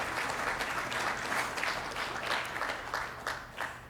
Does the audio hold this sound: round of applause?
yes